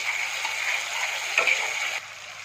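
Cloves, cardamom and cinnamon stirred in hot oil, a close bright sizzle with a light spoon tap before the sizzle drops suddenly.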